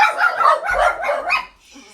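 A dog barks in a short burst of several yips and woofs indoors, fairly close, with a brief whimpering tail at the end.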